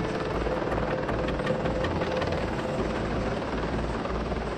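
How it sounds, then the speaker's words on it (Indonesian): CH-53E Super Stallion heavy-lift helicopter with three turboshaft engines, its loud, continuous rotor thump and turbine whine droning steadily without a break, near and dominant with no voices. "Super Stallion adalah helikopter angkut berat dengan 3 mesin turboshaft"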